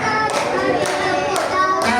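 Children clap along to a sung children's song, with about four distinct claps spaced evenly through the singing voices.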